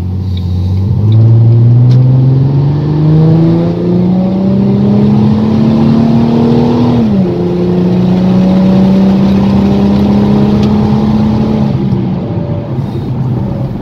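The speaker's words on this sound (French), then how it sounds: "Le bruit d'une américaine c'est quelque chose" A Ford Mustang 4.0 V6 with the GT pack, heard from inside with the window partly open, pulls hard through one gear, shifts, then climbs again in a loud, smooth, steadily rising engine drone.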